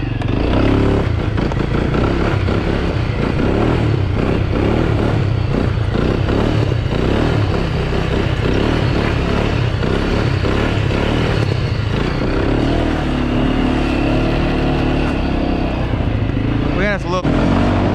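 A Can-Am DS 250 ATV engine runs loudly while climbing a hill, with a rough, steady motor drone and clattering over the terrain, and a voice talks over it.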